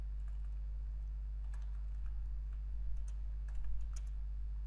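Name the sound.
typing on a computer keyboard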